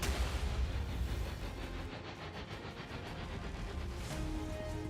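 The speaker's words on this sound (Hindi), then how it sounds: "इक्कीस नवंबर को जब ओरेश्निक के वॉरहेड यूक्रेन पर गिरे तो उन धमाकों को देखिए" Oreshnik missile warheads striking targets in Ukraine, heard as a dense, sustained rumble of heavy blasts and booming impacts, loud and continuous with no speech.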